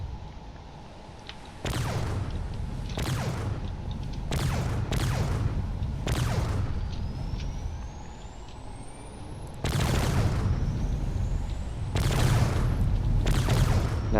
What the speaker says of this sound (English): Now it's going to fire away with all of its closer range weapons.